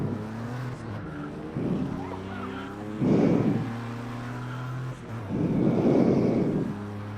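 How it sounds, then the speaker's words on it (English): Video game IndyCars and a classic Ford Mustang racing, engine notes swelling and fading as cars pass in several bursts over a steady droning tone, loud and continuous. "That sounds awesome, that thing. That classic Mustang."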